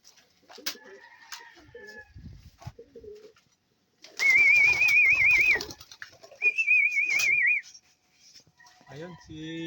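Pigeons kept by a fancier sound outdoors in soft intermittent bursts, with two louder warbling calls close by, while a person talks quietly in between.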